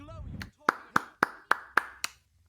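Six sharp hand claps in a steady rhythm, close and crisp, following a brief burst of game sound at the start; a Prince of Persia: The Sands of Time speedrun plays in the background.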